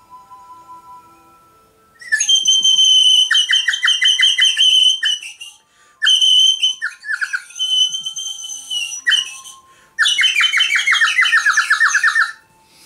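A water-filled nightingale whistle blown in three long bursts, bright warbling trills and chirps separated by short pauses, loud and close.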